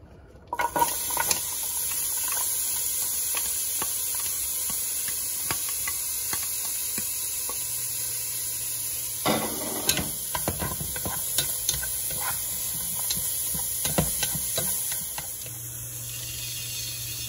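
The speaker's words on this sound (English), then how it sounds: "You're just gonna saute your onions." Onions sautéing in a pan, a steady sizzle and hiss throughout, with scattered scraping and stirring clicks from a utensil and a few louder bursts of activity.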